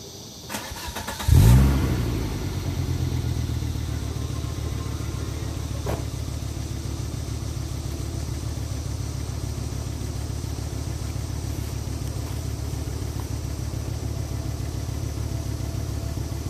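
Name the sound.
Volvo Redblock car engine and exhaust running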